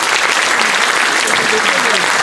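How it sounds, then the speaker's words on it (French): A gala evening audience gives dense, steady applause that stays loud and even throughout the short stretch. "Applaudissements, s'il vous plaît,"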